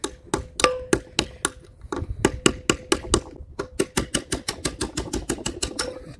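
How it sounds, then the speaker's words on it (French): Repeated hammer blows on a pin punch driving a plate inside a Kärcher K6.95M pressure washer that is losing pressure; about two dozen sharp metallic taps in a steady, quickening rhythm, close and clear with no talk. "je prends un chasse-goupille, hop, et puis je tape dessus"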